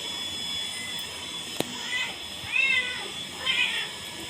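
A house cat that has slipped indoors meows twice, fairly quietly and close by, over a steady hum. One sharp click comes before the meows.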